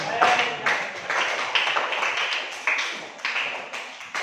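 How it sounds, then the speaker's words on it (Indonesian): Classroom applause for a student named Kalisa: a steady, dense patter of many hands clapping together at close range, continuing for several seconds with small swells. "tepuk tangan untuk Kalisa"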